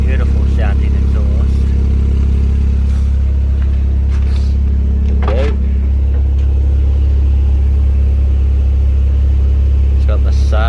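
Turbocharged Suzuki Swift ZC31S exhaust, a loud steady low rumble idling close by throughout, with a person talking over it at intervals.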